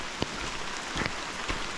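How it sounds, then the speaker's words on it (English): Rain falls in a Costa Rican rainforest near hanging bridges, a soft, steady patter with a few slightly louder drops landing close by. "because it's raining"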